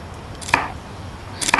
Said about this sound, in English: I'm going to cut those off because they're going to take quite long to cook